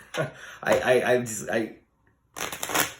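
Tarot cards riffle and rustle as they're shuffled, with a person talking over the papery flutter.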